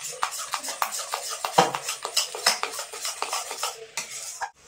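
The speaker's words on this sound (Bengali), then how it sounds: "খুব ভালোভাবে কিন্তু মিশিয়ে নিতে হবে খাবার সোডা দেওয়ার পরে" A spoon stirs sweet kotkoti mixture in a pan right after baking soda goes in, giving rapid, rhythmic scraping and clinking strokes close up, with a faint sizzle and no speech.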